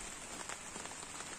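Heavy rain pours steadily during an outdoor rawal gathering in Mohla district, a dense continuous hiss of drops striking surfaces up close with no pauses.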